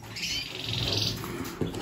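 Canaries being handled for feather trimming give a short burst of high, bright chirps nearby, followed by a few quieter calls over steady background hiss.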